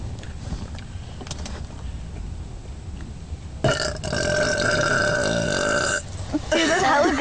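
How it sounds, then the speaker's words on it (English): A loud, drawn-out belch forced by swallowing air rumbles for over two seconds, coming after casual talk and followed by more voices and a short, rougher burp. "You didn't get my insane belch on camera"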